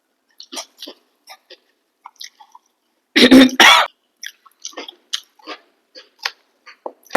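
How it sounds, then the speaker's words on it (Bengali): A brief burst of coughing at a home meal of mixed vegetables, gourd-lentil dumplings (gayna bori), dal and egg posto, loud and close, set between quiet clicks and small mealtime noises. "একটু কাশি হলো।"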